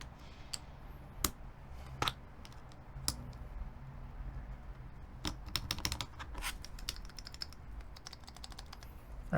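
Keystrokes on a mechanical keyboard with stabilizers, tapped in scattered irregular bursts with sharp clicks, some louder strikes, over a steady low background hum.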